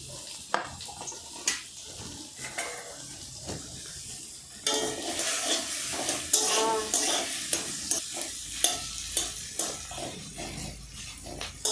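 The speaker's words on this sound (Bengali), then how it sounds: "পেঁয়াজগুলোকে তেলের উপর হালকাভাবে ভেজে নেব।" Chopped onions, cut into large pieces, fry lightly in oil for a mushroom curry, with a broad steady sizzle and repeated scraping stir strokes that grow louder and busier partway through, close and without talk.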